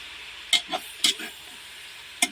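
Sopas soup being cooked in a pot: a few separate clinks and scrapes of a utensil stirring against the pot, spaced irregularly over a low simmering hiss, close and moderately loud.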